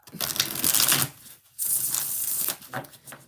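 Tarot cards being shuffled by hand in two loud bursts of riffling and flapping, separated by a short pause, with a softer shuffle at the end and no talking.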